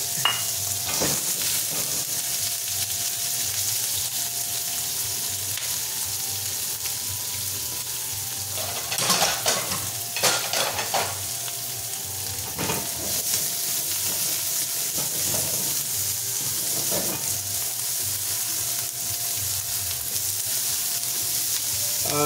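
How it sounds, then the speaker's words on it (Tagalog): Garlic and onion sautéing in a pan, a steady sizzle running throughout with a few louder stirring scrapes and clatters near the middle, and a faint sound of running water mixed in. "we have to saute. Gigisahin natin with the garlic and onion."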